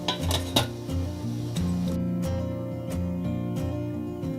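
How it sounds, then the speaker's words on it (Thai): Metal and crockery clatter as food goes into a steamer and the lid is set on: several sharp clinks and knocks close by, spaced irregularly over a soft tonal background. "เสร็จแล้วเราก็ใส่แล้วปิดฝาค่ะ"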